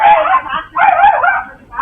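A dog barks and yips in sharp, loud bursts while attacking a woman's leg, two close frantic outbursts with a brief gap between them.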